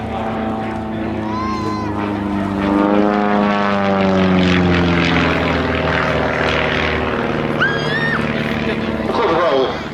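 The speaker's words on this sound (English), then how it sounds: "Relatively little power at this aircraft's disposal, 180 horsepower." A 180-horsepower aerobatic propeller aircraft runs in at an airshow, its engine note rising and falling in pitch as it passes, loud and close, with a commentator talking over it.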